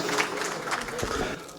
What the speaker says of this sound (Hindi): एक बार तालियां बजा के मुझे हौसला दें